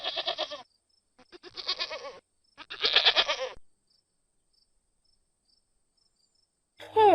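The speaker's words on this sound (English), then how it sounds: "goat," A goat bleats three times in short, wavering, nasal calls with brief pauses between them, close and clear with no other sound around them.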